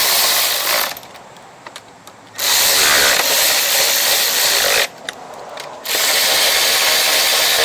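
A power tool drives a bolt on an Ariens lawn mower's Kohler Courage engine during a recoil pull repair: three loud, sustained whirring bursts separated by short pauses with faint ratcheting clicks.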